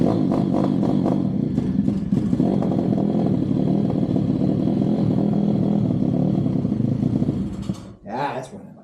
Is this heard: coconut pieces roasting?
no